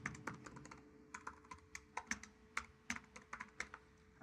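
Quiet, irregular keystrokes on a computer keyboard as a file name is entered, a dozen or so distinct clicks with short pauses in between, close and soft.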